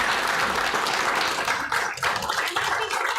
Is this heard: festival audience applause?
yes